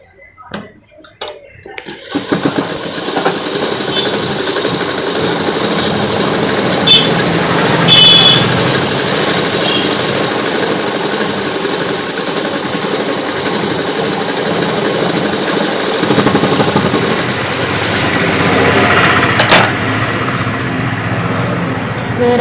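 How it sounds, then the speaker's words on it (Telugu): A sewing machine stitches a half-inch folded hem on a collared night suit, running steadily and loudly for about twenty seconds after a few short starting bursts, with no pauses. "ఇప్పుడు కింద ఒక 1/2 ఇంచు మడిచి కుట్టు వేసుకోవాలి"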